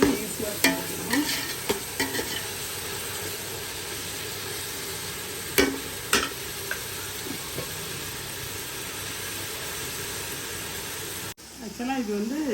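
Onion, ginger and garlic sautéing in a pot for mutton biryani, a steady close sizzle with scattered clinks and scrapes of a ladle, ending in a brief cut to another sound with faint background noise.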